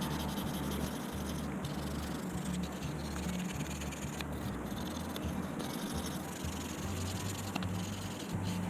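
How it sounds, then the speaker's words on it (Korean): A fingernail is buffed and ground with a file to polish its surface, making a continuous close rubbing and scraping with steady strokes and no talk. "얘는 손톱을 갈아서 연마를 하는 거거든요"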